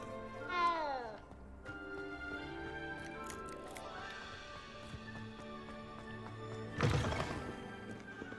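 A cat meows in Hogwarts Legacy, a short rising-falling call near the start, over steady game music, with a louder burst of sound later in the clip.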